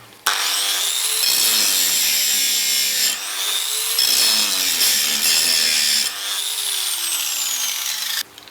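A counterfeit DeWalt DWE4057 angle grinder runs under load in three long grinding passes, each with a rising whine and harsh abrasive rasp, separated by brief dips as the motor slows and spins back up.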